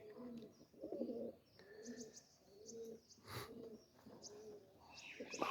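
Pigeons set out in the sun coo in soft repeated low phrases nearby, joined by a few faint chirps and a quiet background.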